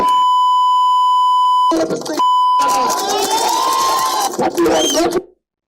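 A steady high-pitched censor beep sounds, breaks off as a voice comes through, then returns briefly before excited talking takes over.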